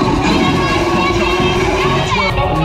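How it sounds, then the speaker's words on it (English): Crowd of spectators cheering runners at the Run Melbourne race, a dense, loud and continuous roar of voices with children's shouts mixed in, close by and sustained throughout. "You guys have been cheering for hours."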